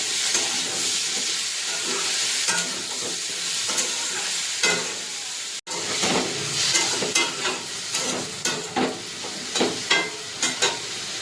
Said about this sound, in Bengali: লবণ দিয়ে দিয়েছি, এবার এটা ভেজে যাবে।